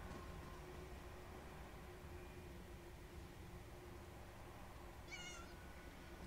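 A single short cat meow from the video game Elder Scrolls Online sounds faintly near the end over a constant low hiss and rumble of ambient game noise.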